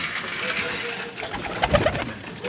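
Soft racing pigeon coos rise briefly over a steady background hum, a few low murmuring calls nearby at feeding time.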